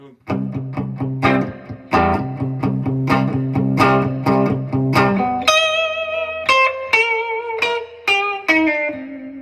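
Electric blues guitar lines played through a distortion effect, close and loud, with sustained chords and bent notes giving way to brighter picked single notes, alone with no talking.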